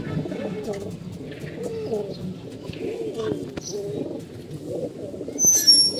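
Brown Chila pigeons cooing in low, rolling murmurs throughout, fairly close and steady, with faint chirps and a brief higher rustle near the end.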